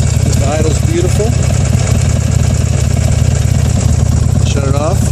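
A Buell Ulysses XB12X with an oil- and air-cooled engine idles close by with a steady loping rumble, while someone talks over it.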